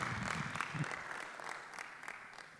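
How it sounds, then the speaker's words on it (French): Applause from delegates at a general assembly of the African Man and Biosphere Reserves Network: soft, steady clapping heard at a distance, thinning slightly toward the end. "on peut applaudir pour ses présences"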